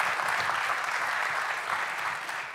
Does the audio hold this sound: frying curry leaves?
no